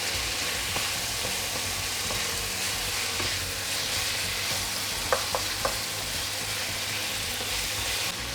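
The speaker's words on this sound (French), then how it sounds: "On va remuer." Food frying in a pan with ground ginger hisses steadily while being stirred, and a few light utensil clicks come near the end. The sound is continuous, close and fairly quiet, with no talking.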